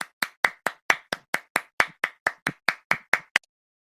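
Sampled clap hits from three identical duplicated clips playing in unison in Ableton Live, a steady run of about fifteen sharp, evenly spaced claps, loud and dry, ending abruptly.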